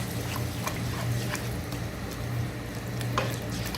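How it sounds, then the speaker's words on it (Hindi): Eggplant curry with gram flour, already fried until the oil separates, is stirred with added water in a pan, giving a steady close sizzle with scraping stir strokes throughout. "और इसे इस तरह से चलाएंगे,"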